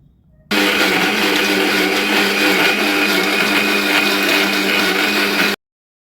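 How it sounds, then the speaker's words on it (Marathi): A mixer grinder grinding chutney with a little water runs loud and steady for about five seconds, a whirring motor grind that starts abruptly and cuts off sharply, with no voices. "तर हे मिक्सरला बारीक वाटून घेऊयात"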